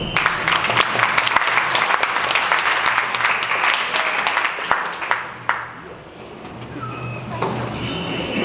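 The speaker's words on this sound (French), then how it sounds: "des honneurs d'applaudissements s'il vous plaît" Audience applause at a poetry event at a cultural centre, with loud clapping that thins into scattered claps and fades, while voices murmur underneath.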